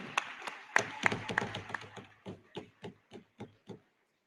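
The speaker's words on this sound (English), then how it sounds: "so big applause" Scattered applause at a conference closing session: a dozen or so distinct hand claps, close and fairly faint, coming quickly at first and then thinning out into slower, evenly spaced claps before stopping.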